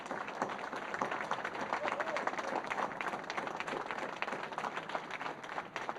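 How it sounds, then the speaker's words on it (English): Standing applause from a seminar audience in a conference room, dense steady clapping filling the whole stretch at moderate level, with faint voices mixed in. "we all stand up and give Bhupendra Bhai a standing applause."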